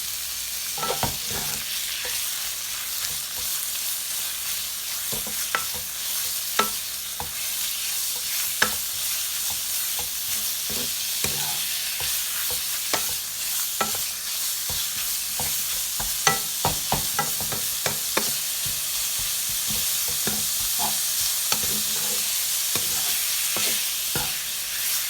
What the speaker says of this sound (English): Stir the minced pork until they change the color.